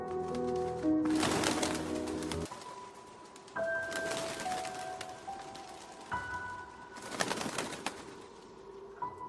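Zebra doves (perkutut) coo in short, repeated bursts, several soft calls spaced across the clip against a quiet outdoor background.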